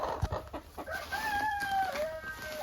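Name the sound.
chickens clucking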